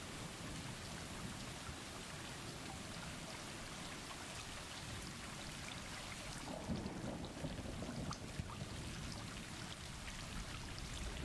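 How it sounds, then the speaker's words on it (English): Steady rain pours down in the video game Stray, a constant hiss of drops on surfaces with a low rumble of thunder rolling in partway through, with no voices. "Tis raining."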